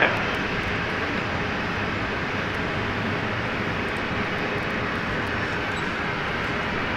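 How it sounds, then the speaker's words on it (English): A Fokker 70 jet airliner coming in to land at Brisbane airport produces a moderate, steady broadband engine rumble, heard at some distance and unbroken throughout, with no voices. "So we've got the Fokker 70 coming in at the moment"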